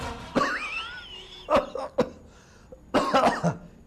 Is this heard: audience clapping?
no